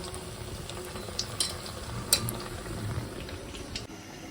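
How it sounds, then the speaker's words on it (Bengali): Beguni, battered eggplant fritters, frying in hot oil in a home kitchen, with a constant close sizzle and a few light utensil clinks over it. "তো এখন শুধু ওই বেগুনিগুলো ভেজে নেব।"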